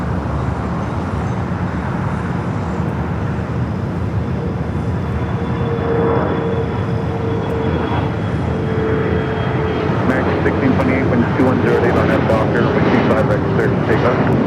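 A jet taking off at Los Angeles LAX airport, a steady broad engine roar that swells slightly over the span, with talk over it.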